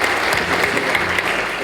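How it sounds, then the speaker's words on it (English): Brief burst of dense audience applause at a blockchain summit in Texas, steady clapping from a large crowd at moderate loudness. "let's give it a big round of applause for the Texas Blockchain Council"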